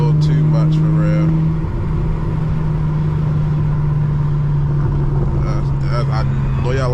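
An Infiniti G37 cruising at night, heard from inside the cabin as a steady low engine drone with a constant hum, while someone talks over it.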